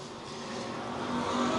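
A race car at Lakeside Speedway roars along the front stretch during an E Mod or USRA B Mod main, its engine note swelling steadily louder as it approaches, with no voices over it.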